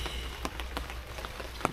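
Light drizzle patters steadily on a surface outdoors at a roofed brick oven under construction, a soft continuous hiss with a few sharper drop ticks scattered through.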